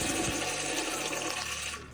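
Water poured from a container onto oats outdoors makes a continuous close splashing, gurgling pour that tapers off at the end.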